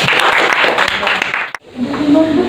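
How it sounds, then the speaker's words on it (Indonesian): Classroom applause from a group of students, a loud, dense run of clapping that cuts off abruptly, followed by a quieter room with a voice starting. "Oke, kasih aplaus."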